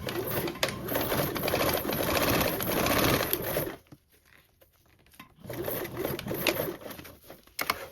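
Sewing machine stitching mesh fabric, a close, steady mechanical whirr that pauses briefly partway through and then starts up again in shorter bursts.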